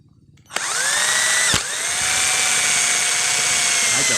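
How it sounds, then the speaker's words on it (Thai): A cordless drill boring a hole spins up sharply and whines steadily at high speed, briefly dipping once before running on loud and close. "เดี๋ยวเจาะให้ดูอีรูหนึ่งนะครับ"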